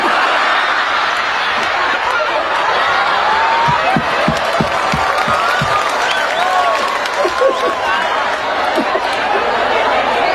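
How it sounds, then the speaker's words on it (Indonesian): A crowd listening to a humorous Sundanese religious sermon applauds steadily, with chatter and bursts of laughter mixed into the dense clapping. "tepuk tangan"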